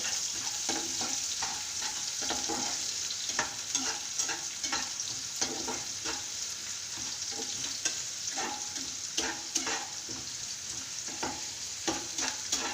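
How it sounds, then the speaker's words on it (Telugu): Onions frying in a pan for palak paneer give a constant close sizzle, broken by frequent clicks and scrapes of a spoon stirring them, with no voices. "అలా కొంచెం వేగాలి, కొంచెం రెడ్డిష్ రావాలి."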